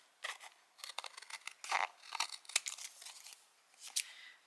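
Scissors snip through recycled paper packaging for a junk journal tag, a quiet, close run of short crisp cuts and rustles in an irregular rhythm with brief pauses.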